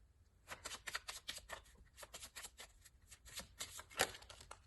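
Tarot cards being shuffled by hand for a reading, a run of quick, soft riffling bursts in an uneven rhythm, close and fairly quiet, with one sharper snap near the end and no talking.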